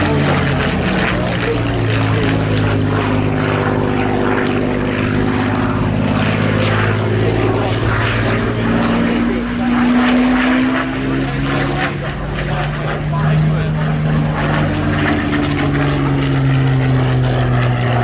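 A Spitfire PR11 propeller aircraft from the Hangar 11 collection flies past at an airshow, its piston engine roaring loud and near with a shifting pitch as it passes, while a commentator talks over it.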